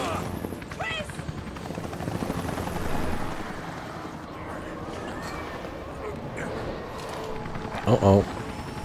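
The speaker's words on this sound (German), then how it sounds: "Wo ist denn der Heli?" Helicopter rotor in the video game Resident Evil Revelations, a steady low chopping drone under a voice, with brief dog-like whimpers and a short burst near the end.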